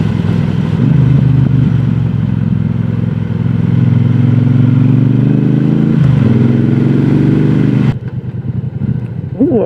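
A 2026 Triumph Bobber 1200 motorcycle engine rumbles loudly and continuously while riding, the deep twin-cylinder note rising through gear changes and acceleration before easing off, heard up close.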